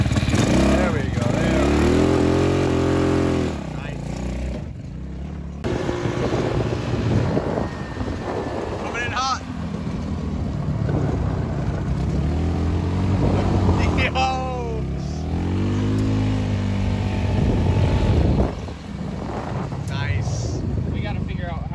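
Go kart with a 150cc engine on a quick test run, its motor buzzing loudly and rising and falling in pitch as it accelerates and eases off, with wind buffeting the microphone throughout.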